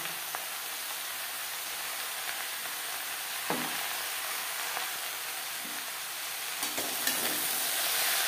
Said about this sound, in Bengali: লাউর সাথে লবণ হলুদ বেশ ভালো করে মিক্স করে দেওয়ার পর